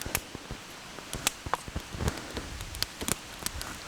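Soaking-wet wood shavings piled onto a campfire in rainy weather give close, irregular crackles, pops and rustles over a soft steady hiss.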